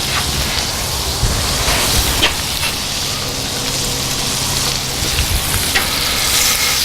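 Sauerkraut frying in melted butter in a pan gives a steady, close sizzle and crackle that runs unbroken, with occasional sharper pops and faint stirring scrapes.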